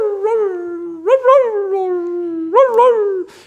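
Dogs howl together in long, wavering tones that rise at the start of each cry and then slowly sink, with overlapping voices swelling twice, loud and close, before cutting off.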